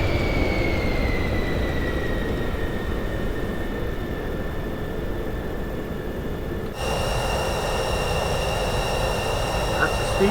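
Propeller aircraft engine in a flight simulator droning steadily as the throttle is pulled back, with a continuous broadband roar and a few faint tonal whines, the engine note shifting partway through.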